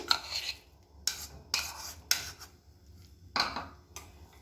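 A spoon clinks and scrapes against a bowl while whisking plain yogurt for banana raita, in several short bursts, close by, separated by brief quiet pauses.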